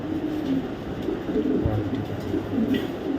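Racing pigeons of foreign bloodlines coo in low, throaty rolls from a nearby loft, soft and repeated against a steady background murmur.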